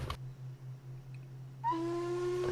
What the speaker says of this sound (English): I also shall try blowing the whistle just to make sure that Parsec's working